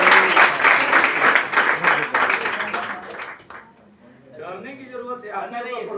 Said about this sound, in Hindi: सनेहा कुमारी, किरण कुमारी के लिए जोरदार तालियां